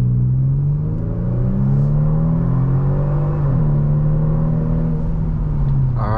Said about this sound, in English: we are out of traffic, as you heard with the engine sound